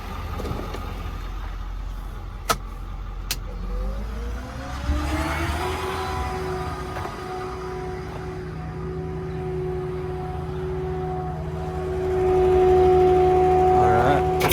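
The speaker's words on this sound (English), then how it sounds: "I'm gonna kick the PTO on, show you the crane" A 2010 Ford F550 mechanics service truck idles with its PTO engaged, the crane hydraulics humming in a steady rising then sustained whine, with a couple of sharp clicks early and the pitch settling into a constant drone.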